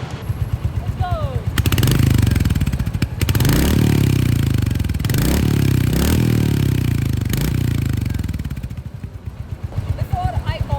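A Royal Enfield Hunter motorcycle with the J series single-cylinder engine idles with a steady thumping pulse, then is revved several times in rising bursts before settling back to a loping idle, heard up close.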